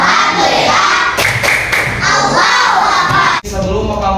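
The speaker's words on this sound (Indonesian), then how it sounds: "Tepuk semangat." A classroom of students in an Indonesian Islamic religious education lesson claps out a rhythmic spirit clap. A quick run of sharp, close claps and thumps rises over a steady room hubbub.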